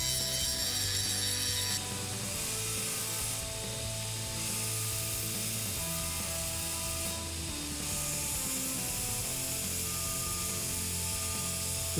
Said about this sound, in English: With the fresh belt on the belt sander, this happens quite quickly.